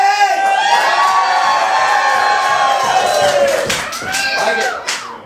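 A theatre audience at the final performance of a play cheers, whoops and claps loudly, with a dense crowd roar that holds steady and then thins toward the end.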